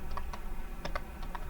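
Keys tapped on a computer keyboard while a sentence is typed out, a handful of quick, light clicks in short irregular bursts, close and fairly quiet, with no voices.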